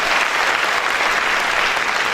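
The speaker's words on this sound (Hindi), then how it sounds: "एक बार जोरदार ताली 3rd ईयर के छात्रों के लिए." Third-year students give a loud, dense round of applause in a packed motivational session hall. The clapping is steady and sustained, with no voices over it.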